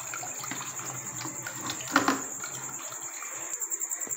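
Cold water pours over boiled egg noodles in a strainer, a soft continuous splashing and trickle with a louder gush midway, faint and close, with no voices.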